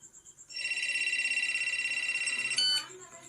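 A phone rings with a sustained electronic trill that runs for about two seconds, then breaks off into a brief higher tone.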